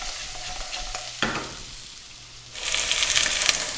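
Pork chop frying in a pan, a hissing sizzle that drops away for a moment, then bursts back louder and brighter near the end, close and alone without talk.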